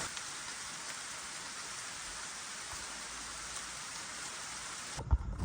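Steady rain pattering on a camper van roof in the mountains, an even, dense hiss that runs unbroken before cutting off abruptly near the end with a brief knock.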